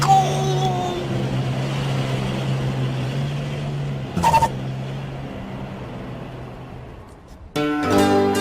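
A car engine runs steadily at a low hum, then rises briefly as the car pulls away, fading somewhat before louder sounds cut in near the end.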